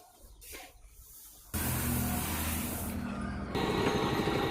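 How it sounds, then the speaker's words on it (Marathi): A stone flour mill grinds a roasted spice mix that includes chili powder. After a quieter opening, a loud, steady mechanical roar of grinding kicks in and continues to the end. "ही आपली जात्याची गिरण आहे आणि ह्या गिरणीतून आपण इसू दळून घेतो."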